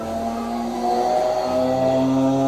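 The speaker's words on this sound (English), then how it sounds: "And we have this super bike race track sound." A kids' electric bike plays its built-in superbike race-track sound effect, a steady revving engine tone that rises in pitch, close and loud, with no talking.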